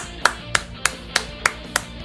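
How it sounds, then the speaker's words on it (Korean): Sparse audience clapping at an online Naruto multiplayer league quarterfinal broadcast: seven single sharp claps spaced evenly about a third of a second apart, fairly close and moderately loud, with no talking over them. "박수 한 번씩 부탁드립니다."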